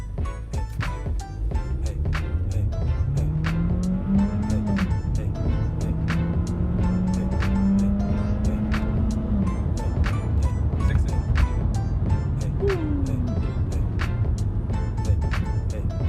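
A 2018 Volkswagen Jetta accelerating, its engine note climbing in pitch through several gear changes, heard from inside the cabin under constant road and wind noise along with some clicking.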